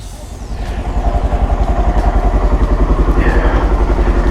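A Honda CRF 125 F dirt bike engine idles close by, its loud, even thumping pulse rising slightly at the start, then settling into a steady rhythmic chug.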